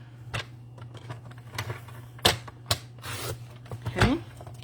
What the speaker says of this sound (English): you want to set this in your trimmer just barely into that groove